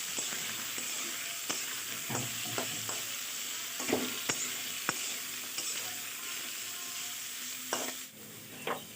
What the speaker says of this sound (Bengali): আমাদের তেল গরম হয়ে গেছে, এবার দিয়ে দেব আলুগুলো দেওয়ার পর এবার ভালো করে নাড়িয়ে নেব।